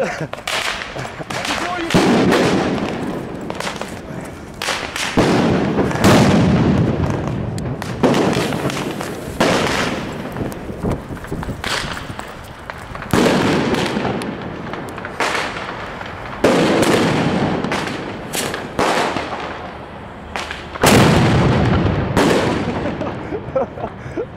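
Repeated loud fireworks blasts, Tuono Gold and Cylinder Salute fireworks in Valencia, go off in irregular bursts, each bang trailing into crackling, one after another for the whole stretch.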